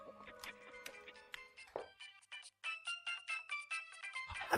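Phone ringtone chiming in a rapid melodic sequence of bright tones, fairly faint, broken by a short pause and then resuming.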